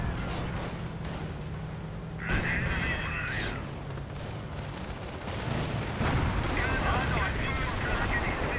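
A Firestorm artillery barrage in Company of Heroes booms through repeated heavy blasts and rumbling impacts over a constant battle din, with a voice talking faintly underneath.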